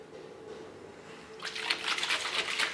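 Drinking water is poured, starting with a low hum and then changing to a steady, splashing pour of liquid into a container that lasts more than a second.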